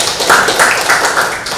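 Students in a classroom applaud together in a loud, dense burst of hand claps that lasts the whole moment.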